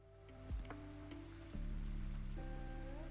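Steady rain weather effect in the decorating game Lonely House, a constant wash of falling water that swells louder partway through, with a few soft thuds and a faint musical tone over it.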